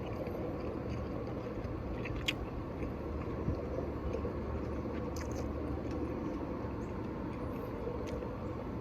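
Someone chewing stir-fried Mongolian beef, soft steady mastication close to the mic over a constant low background hum, with a few faint clicks.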